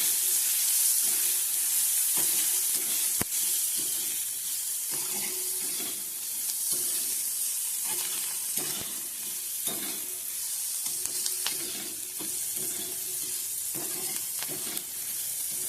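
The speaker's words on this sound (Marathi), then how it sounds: "तर आपण त्याच्यात ना टोमॅटो घालून घेऊया आणि टोमॅटो सुद्धा भाजून घेऊया." Tomatoes sizzle in a pan over already fried onions for a Konkan-style okra dish, with a continuous frying hiss and repeated scraping stirs, close and with no talking.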